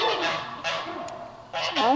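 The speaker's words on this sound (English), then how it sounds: "The geese are swimming and jumping between pools" Geese swimming between pools give several loud, nasal honks in quick bursts, close by and with no talk over them.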